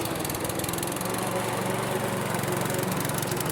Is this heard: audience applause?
no